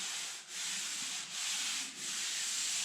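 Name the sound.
sanding body filler off a truck body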